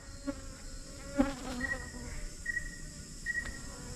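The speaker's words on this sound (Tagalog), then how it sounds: "daming daming bubuyog" A swarm of bees buzzes around the ruins of a house wrecked by an earthquake, a steady droning hum with individual insects whining past close by.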